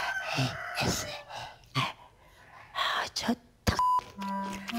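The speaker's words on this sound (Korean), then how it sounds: "눈치 없이 계속 울어대는 닭" A chicken on a farm crows in several drawn-out calls spread across the clip. The calls are fairly close and mixed with people talking and an electronic beep.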